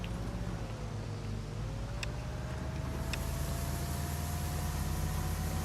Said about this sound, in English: Really changes the engine noise.